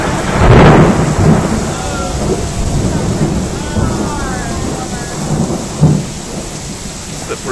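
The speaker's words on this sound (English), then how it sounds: "It's a pretty nasty storm for around here." Heavy rain pours steadily during a thunderstorm outside a Target store in Medford, Oregon, with loud rolling thunder near the start and another thunder crack later, while a person speaks briefly over the downpour.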